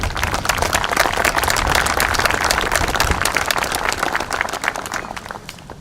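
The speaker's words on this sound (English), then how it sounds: "give yourself a warm round of applause" Outdoor crowd at a 2019 Memorial Day ceremony gives a steady, moderately loud round of applause, dense clapping holding for about six seconds before slowly tapering off.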